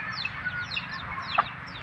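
Backyard chickens kept as pets cluck in short overlapping bursts, several birds close by, under a steady low background hum with no one speaking.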